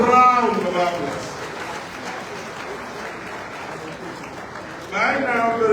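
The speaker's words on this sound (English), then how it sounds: "give yourself a round of applause" Applause from an audience gathered in a hall for a political opposition meeting in Ibadan, steady clapping throughout, with a speaker's amplified voice at the start and again near the end.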